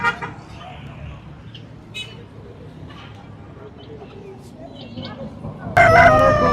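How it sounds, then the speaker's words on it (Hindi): Roosters and desi hens at a rare bird market in Quetta call amid steady crowd and street hubbub, with a short crow rising near the start and a loud, bright burst of crowing or calling at the end. "ये मुर्गा है, ये देसी मुर्गी है"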